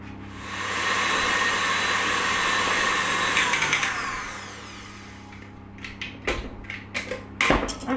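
An electric mixer whirs loudly and steadily while beating cake batter for a Tottenham cake, running for about four seconds before winding down, followed by scraping and clattering of the bowl.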